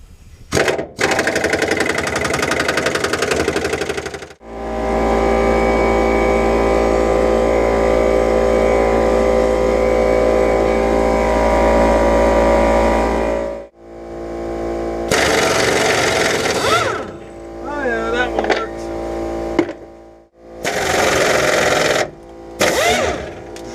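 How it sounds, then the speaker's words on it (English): A half-inch pneumatic impact wrench on 200 psi air, used on auxiliary tank bolts of a 1996 Ford F250, rattles loudly in a long continuous burst of about nine seconds, then gives several shorter, choppier bursts with brief gaps between them. "we're going to try this again with a 1/2-inch impact with 200 psi"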